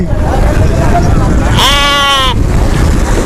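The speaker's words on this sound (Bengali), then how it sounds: "এদিকে ছাগল" A single goat gives one clear, wavering bleat lasting under a second at a riverside market on a Padma river char, over constant wind and crowd noise.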